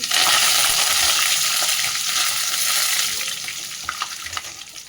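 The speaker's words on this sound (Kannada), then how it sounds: "ಚೆನ್ನಾಗಿ ಒಂಬಣ್ಣ ಬರೋವರೆಗೆ ಬೇಯಿಸ್ಕೋಬೇಕು. ನಂತರ ಕೊತ್ತಂಬರಿ ಸೊಪ್ಪನ್ನು ಹಾಕ್ತಾ ಇದ್ದೀನಿ." Coriander leaves stir-frying in a pan of lemon rice tempering, a steady loud sizzle with faint scraping stirs toward the end, no voices.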